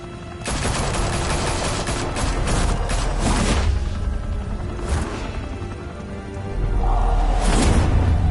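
Gunfire in Telltale Batman: a loud, sustained volley of rapid shots and bursts rattles for several seconds, then thins to a few isolated cracks before a heavy rumble returns near the end.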